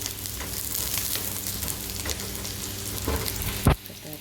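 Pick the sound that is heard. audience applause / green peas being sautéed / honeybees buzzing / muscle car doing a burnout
green peas being sautéed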